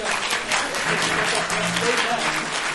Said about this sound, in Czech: Můžete tleskat, klidně